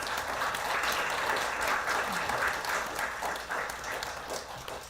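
An audience at a human rights forum applauds presenters and designated discussants with a steady, moderately loud clapping that continues throughout and fades slightly at the close.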